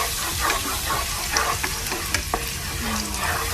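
A spoonful of wheat flour is sautéed and stirred in a pan while making Swedish meatball sauce, giving a steady close sizzle with soft spoon scrapes and clicks throughout, no talking.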